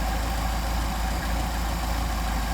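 A Solex engine runs steadily during a carburetor test on a concrete pad, giving a loud, continuous idling drone with a rough vibrating pulse throughout and no voices.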